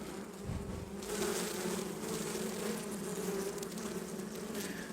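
Honey bees buzzing at an opened hive after the honey harvest: a dense, steady drone of many bees close by, continuous and even with individual bees flying past, no talk.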